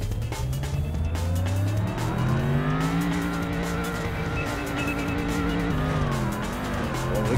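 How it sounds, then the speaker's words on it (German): A car reverses in the racing game Import Tuner Challenge. The engine whines and shifts pitch loudly and up close, with tire squeal and skidding and no voices. "Oh, Alter, rückwärts fahren ist gar nicht cool"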